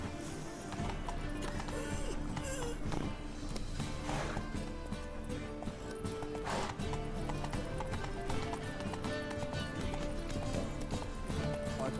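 Horse hooves galloping in The Witcher 3: Wild Hunt, a steady rapid clip-clop that runs throughout, layered with game music and ambience, with a brief whinny and a voice urging the horse on.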